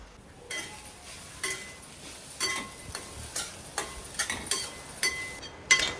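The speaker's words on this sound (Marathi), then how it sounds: "खसखस थोडी तडतडायला लागली की लगेच आपल्याला त्यामध्ये आपण जो खवून घेतलेला नारळ आहे तो आपल्याला टाकून आपल्याला चांगले हे मिश्रण परतून घ्यायचे आहे" Grated coconut and poppy seeds sautéed together in a pan, giving soft, irregular stirring scrapes and light crackles with gentle sizzling, close and fairly quiet, with no talking.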